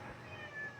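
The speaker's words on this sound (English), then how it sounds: "That's my cat, by the way." A pet cat gives a single drawn-out meow, close and clear, with no voices over it.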